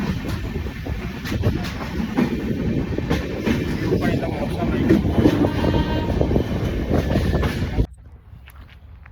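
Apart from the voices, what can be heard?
train departing station on Mumbai to Kudal route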